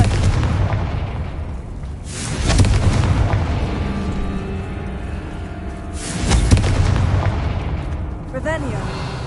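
Confringo spell blasts in Hogwarts Legacy, two loud booming explosions a few seconds apart, each swelling and fading, amid game sounds with a voice speaking.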